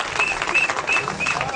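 Studio audience applause on a French-language talk program, a brief burst of dense clapping heard close and fairly loud, with a faint voice mixed underneath.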